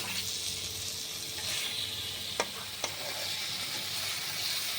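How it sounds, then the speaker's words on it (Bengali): Small onions being stir-fried with spices over high heat for a spicy shallot curry. A constant close sizzle carries two sharp clicks of the spoon against the pan, and nobody speaks. "পেঁয়াজগুলো একটু মশলার সাথে মিশিয়ে দিচ্ছি ওভেনের আঁচটা জোরে করে দিলাম কষিয়ে নেবো এটা মশলার সাথে"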